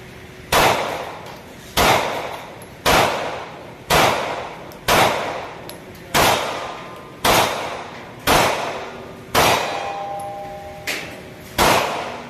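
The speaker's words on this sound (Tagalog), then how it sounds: "let's try the 19X with Imantec upgrade kit" A Glock 19X pistol fitted with an Imantec upgrade kit and crystal trigger fires at an outdoor range: about ten loud, sharp shots spaced at a steady, unhurried pace of roughly one per second, each ringing briefly before the next.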